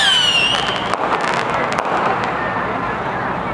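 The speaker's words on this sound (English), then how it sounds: "Some fireworks." Fireworks crackle and pop at a night sky lantern release in Taiwan, a whistling rise followed by a burst of sharp crackles fading into a loud outdoor wash.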